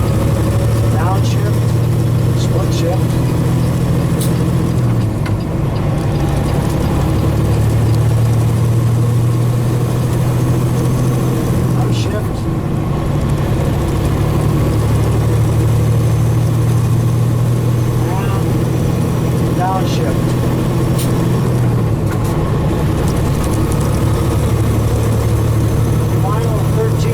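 A heavy truck engine with a 13-speed transmission runs in a steady, loud drone throughout. The low rumble dips and recovers at a few points as gears change, and a voice talks over it.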